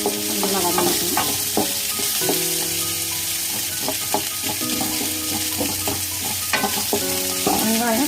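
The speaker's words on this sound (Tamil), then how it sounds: "நல்லா வதங்கட்டும்." Beetroot and onion sauté in a pan with a steady, loud sizzle, while a spatula stirs and scrapes against the metal in repeated strokes throughout; no voices.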